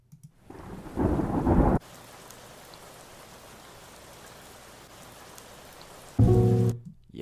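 Rain samples being auditioned in Ableton Live through short previews: a loud burst of rain and thunder, then a long steady hiss of rainfall, then another sharp loud snippet cutting in near the end.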